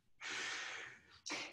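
A person breathes during a yoga session, one long airy breath followed by a shorter, sharper one, close to the microphone and audible without any talking.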